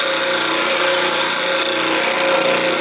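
Bench grinder wheel sharpening the relief bevel of a woodworking scraper on a platform set to 40 degrees, a loud steady high-pitched grinding whine held without break throughout, close and alone.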